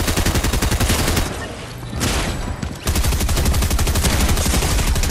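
Rapid bursts of automatic gunfire in the Fortnite video game, loud and close, with a brief lull midway before the rattling fire resumes at full intensity.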